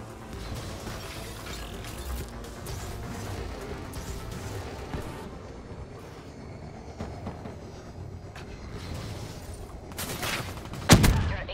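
Gunfire fills a Black Ops 3 arena-mode match, with steady rattling bursts and scattered shots at moderate level over a busy game background, ending in one sharp louder blast; no one speaks.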